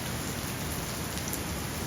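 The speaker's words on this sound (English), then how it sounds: "So last night it started raining" Heavy rain pours steadily in a hard storm, a dense, even hiss of downpour that fills the whole stretch without a break and with no voices.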